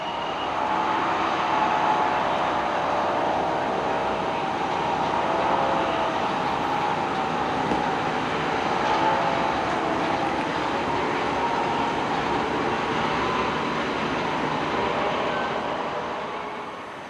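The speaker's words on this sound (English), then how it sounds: "An empty ore train returns to Kiruna for its next load." An empty iron ore train on the Malmbanan line heading back to Kiruna, a steady broad rumble of rolling wagons that stays even in level throughout, moderately loud with no speech.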